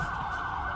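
A police siren wails steadily through a short burst of shaky phone recording in a quiet residential neighborhood at night, loud and slightly distorted, with no voices.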